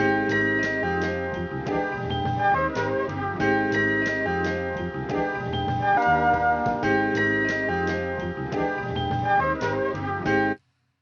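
A mellow lo-fi music loop with soft chords and a gentle beat, playing steadily for several bars before stopping suddenly.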